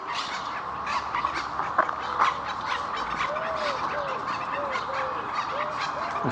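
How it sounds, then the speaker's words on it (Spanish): Japanese silkie chicken calls in a park animal area, a few short clucking notes over a steady background of other birds and ambient noise, moderately distant. "Gallina sedosa del Japón."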